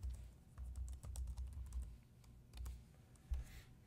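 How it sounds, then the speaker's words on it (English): Someone types a password on a computer keyboard in a quiet room, a close, soft burst of quick key clicks with a brief pause before a few final taps. "did have to type my password"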